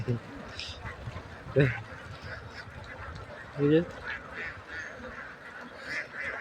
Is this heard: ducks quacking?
yes